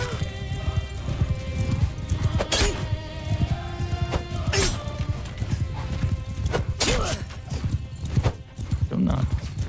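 Horses galloping in the medieval battle game Bannerlord, a dense, rapid clatter of many hooves pounding close by, with sharp impacts and neighing cutting through the continuous drumming.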